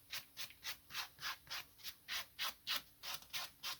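Sandpaper is rubbed back and forth over a sharp-edged tyre machine part in quick, regular strokes, about a dozen soft, scratchy swishes in a row, quiet and close, with no talking.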